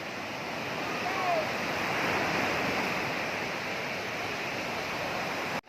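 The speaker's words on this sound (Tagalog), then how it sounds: "Nandini ho kami sa dagat ng Melgar sa dulo." Sea surf at Melgar beach, a steady broad wash of breaking waves with wind rumble on the microphone, continuous and fairly loud throughout.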